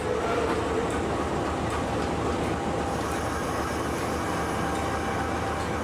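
Shunting of a train with diesel and steam locomotives and a tank wagon on a mountain railway, a continuous rumbling clatter of rolling stock with steady low mechanical noise and no voices.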